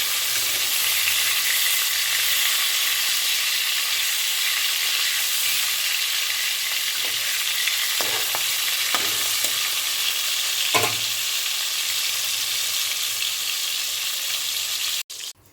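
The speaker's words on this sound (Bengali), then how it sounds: "মাছগুলো ভেজে তুলে নিলাম।" Pieces of rohu fish fry in hot oil in a pan with a steady, close, broadband sizzle, broken by a few soft scrapes and stirs and a brief clatter near the end.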